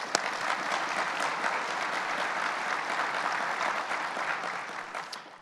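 An audience applauds at a university event honoring its president, a dense, sustained roar of clapping from a large crowd, steady and loud throughout with no speech over it.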